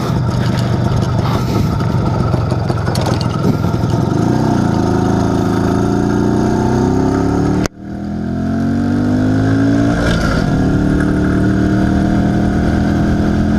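An IZh Planeta 5 motorcycle engine, freshly fitted with a new crankshaft seal, revs hard and climbs in pitch, cuts off briefly at a gear change, then pulls up again in the next gear, loud and close with no talk.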